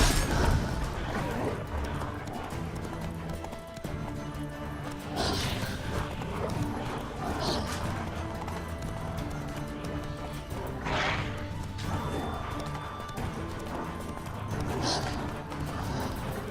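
Horses whinny and hooves clatter in a busy mix from The Witcher 3: Wild Hunt, with a voice talking through much of it and occasional crashes.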